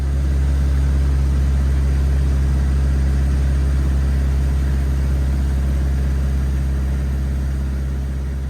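A de Havilland DHC-1 Chipmunk light prop trainer cruises in flight, heard from inside as a loud, constant low engine drone with a steady buzzing hum across several seconds and no talk.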